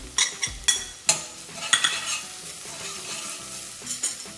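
Spices go into a pan of softened onions and sauté, giving a low steady sizzle under repeated clinks and scrapes of a metal spoon stirring against the pan.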